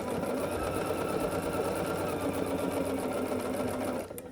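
A sewing machine stitches quilt block pieces, with a steady, fast mechanical whir close by that runs continuously for about four seconds before stopping.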